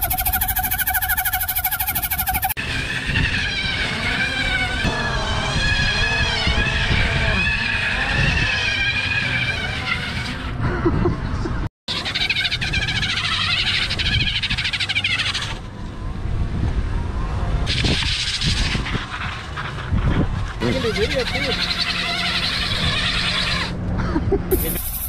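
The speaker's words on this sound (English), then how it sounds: "my favorite thing about the Shenzhen Scrambler is just spinning the tires and attempting to just burn out everywhere that I can" Electric scrambler-style e-bike with a 1000W motor does repeated tire-spinning burnouts, loud continuous rubber squeals and screeches with rising and falling pitch, broken by a brief cut partway through.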